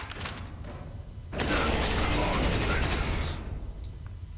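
Weapons firing in Space Hulk: Ascension: a few faint shots, then a loud, dense sustained burst of heavy rapid fire with mechanical clatter lasting about two seconds before easing off, with some talk.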